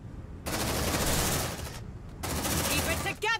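Rapid gunfire from the Aliens: Dark Descent video game fills two long dense bursts separated by a short gap, with game effects and character voices mixed in near the end.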